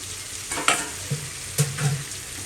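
Already-fried prawns stirred into a pointed gourd (potol) curry in a pan, making a continuous sizzle with several distinct scraping stirs and clinks of the spatula, close and fairly loud.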